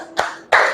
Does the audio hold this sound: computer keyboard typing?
no